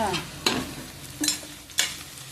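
Onions fry in oil in a pan, with a low sizzle under three clear stirring scrapes of a spoon against the pan; quiet and close, with no speech.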